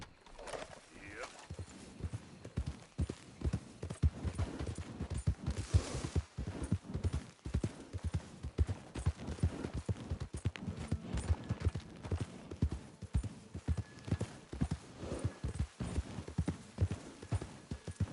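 Horse hooves galloping in Red Dead Redemption 2, a fast rhythmic run of clear, close hoofbeats throughout, with birds faintly in the background and a voice speaking now and then.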